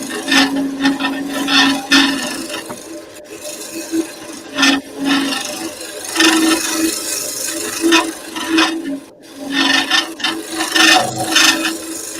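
A hand tool works wood with repeated rough rasping and scraping strokes, a rhythmic, fairly loud rubbing that goes on steadily with brief pauses and no talk.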